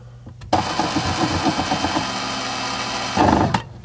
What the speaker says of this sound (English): grab my drill with just a small 1/16 inch drill bit, come down here to that mark and just make a very small pilot hole